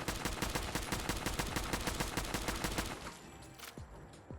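A 5mm Winchester range rifle in Fallout 4 fires in rapid full-auto, a long even stream of close, loud shots that stops after about three seconds, followed by a few scattered clinks and tails.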